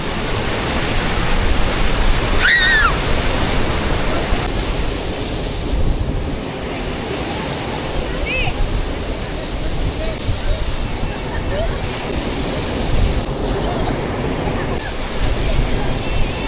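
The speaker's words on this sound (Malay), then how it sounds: "Sementara dia punya ombak tu masih kuat lagi." Strong sea waves surge and wash continuously on Port Dickson beach, a steady loud broadband roar with gusty wind across the microphone and brief voices in the background.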